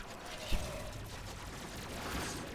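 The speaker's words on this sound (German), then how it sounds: "schießen die auch so permanent hier" Enemy gunfire in the video game Warframe crackles in a dense, continuous stream of rapid shots, with one sharper report early on, all at moderate loudness.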